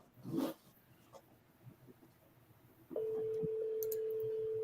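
A telephone line sounds a single steady electronic tone that starts partway through and holds to the end, after a few faint clicks and rustles over quiet background.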